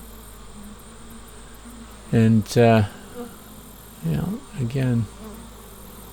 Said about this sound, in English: There's a cheerleader bee grabbing others and vibrating them